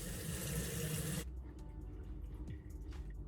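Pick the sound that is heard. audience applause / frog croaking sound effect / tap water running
tap water running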